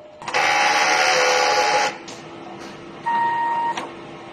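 A DTF printer runs a print head cleaning cycle, with a loud steady mechanical whir and pump hum for about a second and a half, a pause, then a shorter second burst with a tonal whine.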